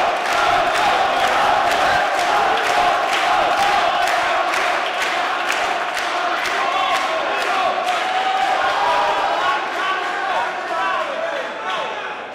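Crowd cheering at an MMA fight, CFC Oaza Night 2 with Marko Vardjan against Đorđe Tomović, a loud continuous roar with rhythmic shouts and chants and commentary running over it.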